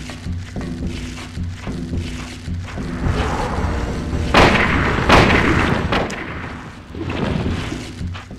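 Heavy rifle shots in Silent Hill boom out one after another, loud and close, each blast followed by a rumbling decay over dark ambient background noise.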